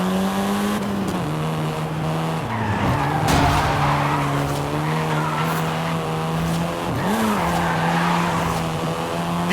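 A Volkswagen Golf R, seventh generation, in Forza Horizon 5 holds a steady, loud engine drone with shifting pitch, broken by tire squeals and skids, close and continuous with no talk.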